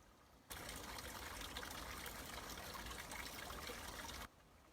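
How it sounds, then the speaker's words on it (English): A small woodland creek near Caerleon trickles and burbles steadily, a continuous watery wash that starts abruptly and cuts off near the end, with no voices. "we've stopped and just come across this little creek here"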